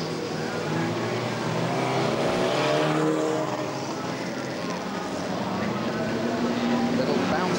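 Race cars roaring around a speedway track on the final lap, a steady, loud blend of engine noise that swells and fades slightly as they pass, with an announcer talking over it.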